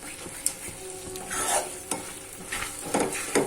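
Semolina fries in ghee in a pan while being stirred, giving a close, steady sizzle with scraping strokes and soft clinks of the spoon against the pan.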